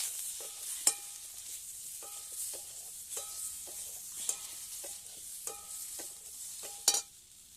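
Potatoes cooking in a pan with chilli and turmeric powder, a faint sizzle under rhythmic scraping strokes of a spatula, with a few louder knocks against the pan.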